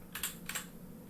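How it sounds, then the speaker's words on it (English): A few quick keystrokes on a computer keyboard, typed one-handed while labeling items, come as two short clustered bursts of clicks, close and fairly quiet, with no talking. "I'm typing with one hand"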